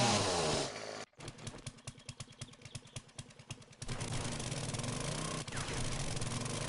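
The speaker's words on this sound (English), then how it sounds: "Sorry for the noise, chainsaw is super loud." A chainsaw in the video game 7 Days to Die revs in a quick series of sharp, choppy pulses, then gives way to a steady, dense roar, loud and close with no talking.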